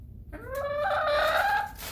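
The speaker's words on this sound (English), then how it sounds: "And there's our little rooster Stormy here." A young backyard rooster lets out a single rising crow, close and clear against faint coop background noise.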